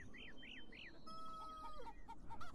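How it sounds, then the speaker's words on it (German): Chickens cluck in a coop in the video game Beyond Eyes, several short repeated clucks and calls mixed with a few brief crowing-like notes, quiet and close over a soft ambient background. "Das sind wohl Hühner. Ein ganzes Hühnergehege."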